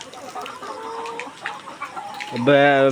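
Chickens in a poultry farm house on a hot evening, lights still on and fans running, cluck and murmur steadily in the background, and near the end a louder, sustained call rises above the flock.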